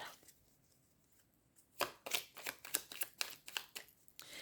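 Tarot cards are shuffled and cut by hand, a brief quiet lead-in followed by a rapid series of crisp, close riffling snaps.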